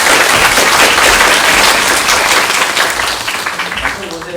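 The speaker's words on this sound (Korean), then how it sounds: "박수 맞아주십시오." Audience applause welcoming a guest professor to a special lecture at Pusan National University, loud dense clapping from a hall that gradually thins and fades toward the end.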